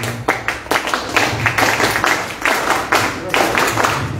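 Attendees at an APRA party agricultural proposals event clap for a union leader, with distinct, fairly rhythmic claps close by and voices murmuring underneath.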